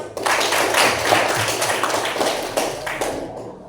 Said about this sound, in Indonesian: Dan beri tepuk tangan untuk kelompok 4